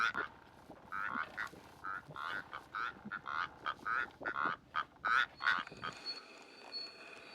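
A pair of Rüppell's korhaans duet in sparse open country, trading rhythmic, throaty frog-like croaking calls in repeated bursts, moderately near, with no talking.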